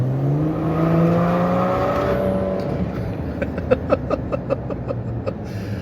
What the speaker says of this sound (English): a free flow exhaust system